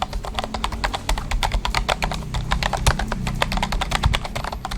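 Rapid, steady typing on a Rapoo NX1500 membrane keyboard, with soft muffled keystrokes in quick succession, close up and continuous with no talking.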